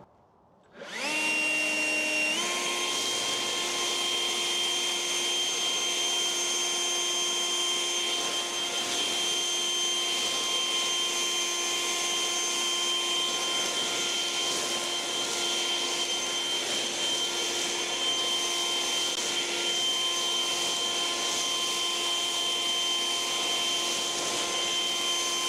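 An Echo eForce 2500 battery leaf blower spins up within a couple of seconds to full turbo, then holds a loud, steady, high-pitched whine with a rushing airflow for over twenty seconds, no voices.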